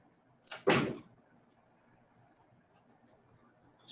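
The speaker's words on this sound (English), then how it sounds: "Just have to close my door." A door swings and shuts in a home office, a soft creak followed by a firm thump, then quiet room tone and a faint click at the end.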